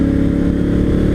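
A Honda Africa Twin Adventure Sport motorcycle engine running through its standard exhaust, a loud, close, steady throbbing rumble with no talk over it.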